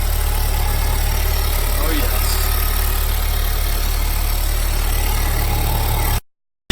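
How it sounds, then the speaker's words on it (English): A Honda Civic Type R FK fitted with a PRL high-volume intake idles just after a cold start, giving a steady, close, low engine drone. A brief voice is heard, and the sound cuts off abruptly near the end. "first start up with the PRL intake"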